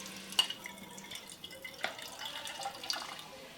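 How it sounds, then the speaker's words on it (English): Water runs from a kitchen tap into a glass container, a soft trickle with light drips and splashes, fairly quiet and close with no talk. "So I run a little water in that."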